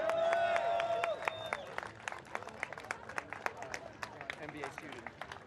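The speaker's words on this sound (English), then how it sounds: "a round of applause for Jeremy Montgomery Swan" Scattered clapping from a small crowd at a kart racing series awards ceremony follows a brief voice at the start, the sharp individual claps thinning and growing sparser as they fade.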